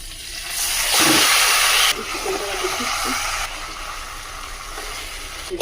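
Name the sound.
chicken frying in hot oil with cumin and sugar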